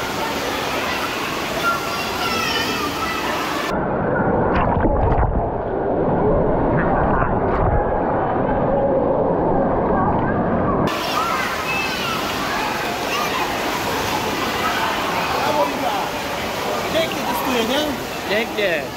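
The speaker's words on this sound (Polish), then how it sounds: "Tym razem testujemy basen, w którym są sztuczne fale." Artificial waves churn in an aquapark wave pool, a loud continuous rushing and sloshing roar with crowd noise around it.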